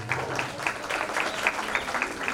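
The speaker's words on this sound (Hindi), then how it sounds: "तालियां आप लोग कम बजा रहे हैं, जबरदस्त होनी चाहिए" Applause from a school audience at a Vande Mataram celebration in Baliapur, Dhanbad, a steady moderate patter of many hands with faint voices mixed in.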